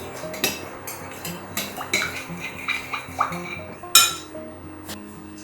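Salt being stirred into green tomato dolma filling in a bowl, with a spoon scraping and clinking repeatedly against the sides in an uneven rhythm, close and fairly quiet, with no talking.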